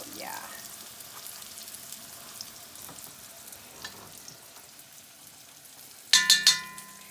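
Mushrooms fry in butter in a pan for a stir-fry with broccoli, giving a steady soft sizzle throughout, ending with a few sharp clinks of a utensil against the pan.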